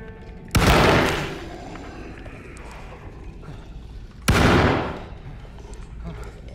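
Two loud shotgun blasts from the survival horror game Alone in the Dark, heard a few seconds apart, each a sharp broadband crack trailing into a booming decay over steady background ambience.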